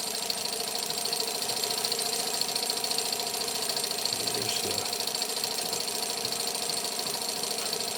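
A small model Stirling engine driving a helicopter's gears runs steadily, a fast even mechanical rattle and whir held at a constant level, close and alone with no talk.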